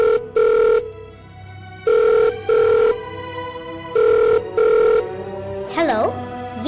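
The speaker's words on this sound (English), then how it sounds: "the phone rang." A telephone rings in repeated double bursts of a bright electronic bell, loud and close, three pairs in a steady rhythm, followed by a voice answering.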